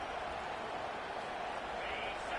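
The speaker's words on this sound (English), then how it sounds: "listen to this crowd noise. This stadium is vibrating." A stadium crowd in a college football video game roars as a steady, dense wash of noise, continuous and fairly faint, with no clear peaks.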